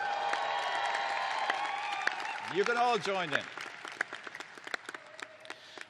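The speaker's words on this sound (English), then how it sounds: "just give a big cheer for yourselves" Law school graduates applauding at a pre-commencement ceremony, scattered claps and crowd noise that build briefly and then trail off while a speaker talks over them.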